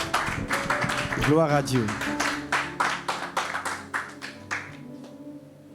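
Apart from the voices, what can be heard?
congregation clapping to acclaim the word of the Lord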